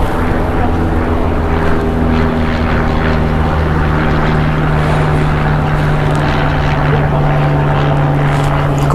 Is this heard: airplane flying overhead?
yes